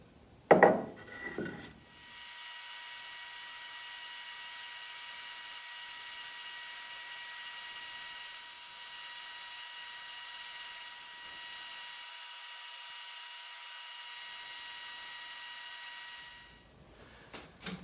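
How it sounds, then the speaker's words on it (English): A bandsaw runs through a cut in oak, a steady high whine that holds for about fifteen seconds between brief handling knocks at the start and end, heard fairly faintly and with no talking. "Okay, to the bandsaw."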